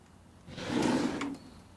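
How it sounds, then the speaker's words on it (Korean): A drawer slides open in a quiet indoor room, a single short rolling scrape lasting under a second, close by and moderately loud, with no voices over it. "여기 서랍 좀 열어봐."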